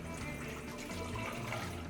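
Cocktail liquid, a 1950s Trader Vic's Siboney, pouring steadily into a metal shaker tin, a close, continuous splashing fill with no talk over it.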